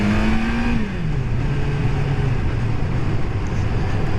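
Kawasaki GPZ600R motorcycle, freshly rebuilt, revving on a short road test ride, its engine note rising then easing into a steady drone under heavy, constant wind rush.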